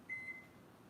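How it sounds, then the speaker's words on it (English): A microwave oven hums steadily while heating butter, with a brief high tonal whine near the start over a low, even drone. "we just put the butter in the microwave for about a minute."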